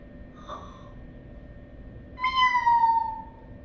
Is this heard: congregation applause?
no